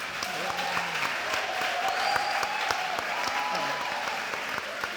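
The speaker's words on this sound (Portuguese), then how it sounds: "peço um aplauso para os testemunhos que aqui ouvimos" An audience at a talk event applauds at length, a steady, dense patter of many hands clapping that fills the room for several seconds.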